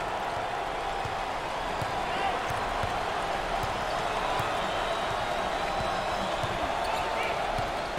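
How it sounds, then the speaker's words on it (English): A basketball crowd at a 2021 NCAA tournament second-round game between Yale and LSU cheers in a dense, steady roar, with ball bounces and a commentator's voice underneath. "Listen to this crowd. Oh, there's all kinds of people standing and cheering and going wacky."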